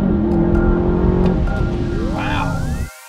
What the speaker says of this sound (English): Sounds like a Lambo. This thing sounds like a sports car.